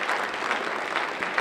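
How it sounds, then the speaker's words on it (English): A short stretch of steady applause for panelists at a racial justice and equity summit panel discussion, a dense, even clatter of many hands filling the room. "let's give our panelists, this is great discussion, big round of applause"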